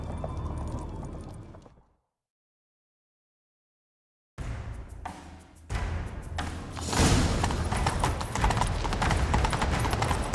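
Hooves clatter in a rapid galloping rhythm in The Witcher 3 after a brief silence, growing louder and busier as the ride picks up.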